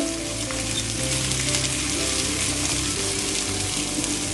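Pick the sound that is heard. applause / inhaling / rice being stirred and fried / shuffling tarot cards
rice being stirred and fried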